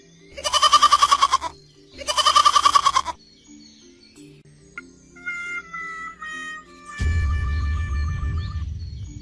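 A goat bleats twice, loud and close, with two long wavering cries about a second apart, followed by quieter bird calls and a low rumbling noise.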